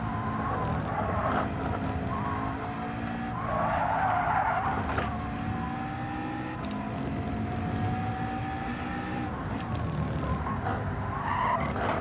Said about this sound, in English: And we're braking.